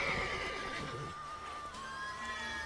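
A horse in The Witcher 3 gives one loud, drawn-out whinny with a falling pitch, followed by a few soft snorts and hoof sounds nearby.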